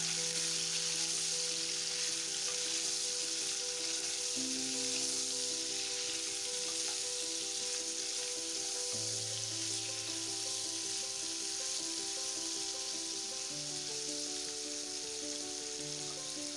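Chicken and capsicum slices sizzle steadily in a pan while being stirred, a continuous close frying hiss with soft stirring movements throughout, over a faint background melody and no talk.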